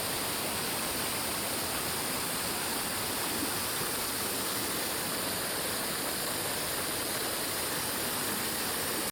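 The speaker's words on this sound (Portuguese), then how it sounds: "como essa cachoeirinha, coisinha mais linda, bem fininha, estava ali na lateral" A small, thin waterfall spills down the side of a river near Serra Furada, Santa Catarina. Its even, rushing hiss of falling water holds steady throughout, with no voices.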